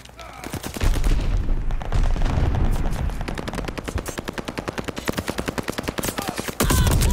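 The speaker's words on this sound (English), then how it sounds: "Teammate, I thought you were laying down cover fire." Machine gun cover fire in the shooter Call of Duty Vanguard, a long, loud, sustained automatic stream of rapid rhythmic shots up close, briefly pausing before resuming at the end.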